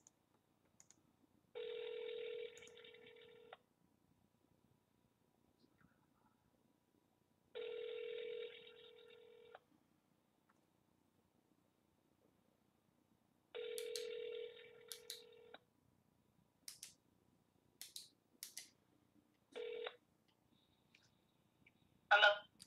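A landline phone call begins with a quiet beat: three long ringback tones sound at even intervals, then a quick burst of dialing beeps and a shorter tone, all clean and close with no talk.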